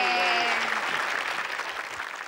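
A studio audience at a Thai television show applauds a child: a loud, dense wave of clapping that begins at full strength while a tonal sound fades out, then gradually thins and softens.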